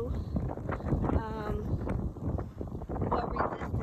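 Wind buffets a greenhouse on a windy day in Texas, with rumbling gusts and flapping against the structure, loud and close on the microphone, with a person speaking faintly underneath.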